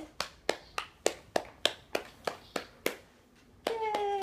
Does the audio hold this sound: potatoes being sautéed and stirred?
no